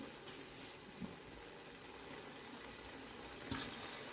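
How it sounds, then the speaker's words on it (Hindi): Water pours steadily into a cooking pot of chana pulao with a soft, continuous splashing hiss, fairly faint and close, with no voices. "अब हम इसमें पानी ऐड करेंगे।"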